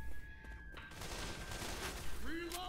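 Video game gunfire during a zombie-shooting sequence, a rapid burst of shots and booms over a background of game noise, with short tonal effects near the end.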